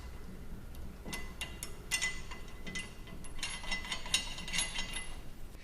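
Ratchet clicking in short bursts while snugging the BDS U-bolt nuts with black nuts and washers on a Toyota Tacoma during a 6-inch coilover lift install, close and fairly loud, with metallic rattles between strokes.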